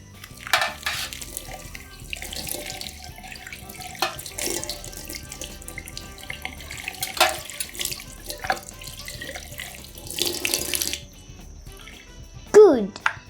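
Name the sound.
rinsing a spoon under running tap water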